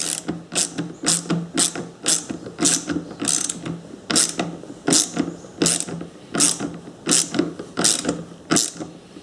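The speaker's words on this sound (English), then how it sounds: "you can put the ratchet in the top there, just to make things a tad easier for yourself" Ratchet turning screws on a Stihl 251c saw during fuel tank replacement, giving loud, close, evenly paced bursts of clicking in steady repeated strokes with no talking.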